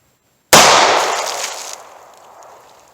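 A single sharp gunshot from an Inceptor ARX .38 Special round fired during a ballistic gel test, loud and close, cracking suddenly after a short silence and fading into a decaying ring.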